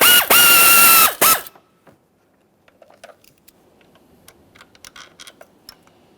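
A ratchet breaks free a throttle body bolt on a 2013-2020 Ford Fusion 2.0L I4 engine: a loud, close burst of grinding, whirring clatter, then a few faint, scattered clicks.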